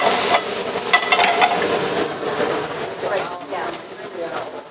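Sun-dried tomatoes tossed into a hot oiled pan sizzle and crackle steadily, with a burst of louder spitting at the start and talk over the cooking.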